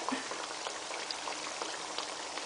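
Kotlet patties of potato sizzle in hot oil in a frying pan, a soft, continuous crackle with scattered small pops, fairly quiet and steady with no voices.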